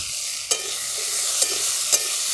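Prawns frying with salt and turmeric in a pan, under a continuous sizzle with three distinct scraping stirs spaced out, close and fairly loud.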